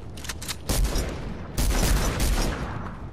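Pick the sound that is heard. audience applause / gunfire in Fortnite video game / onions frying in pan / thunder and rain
gunfire in Fortnite video game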